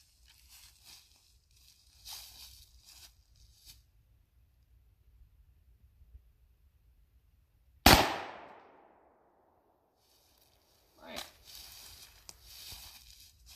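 A single loud 12-gauge Mossberg 500 pump shotgun blast firing buckshot outdoors, one sharp close report with a long ringing decay, set among faint rustling and soft handling sounds.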